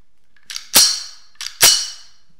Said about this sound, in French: vous le reconnaissez au bruit de la culasse, le bruit est dégueulasse